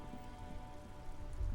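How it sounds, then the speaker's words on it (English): Rain falls steadily on the white-and-blue police livery of a motor carriage in Disco Elysium, a soft continuous patter that swells slightly toward the end, heard alone. "Droplets of rain fall on the white on blue police livery of the motor carriage."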